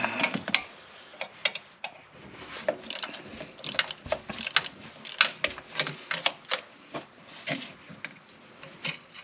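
Ratchet wrench loosening a 13 mm bolt on a Volkswagen Vanagon support bracket during clutch replacement, a close, irregular series of sharp metallic clicks and ratcheting bursts with short pauses, no talking.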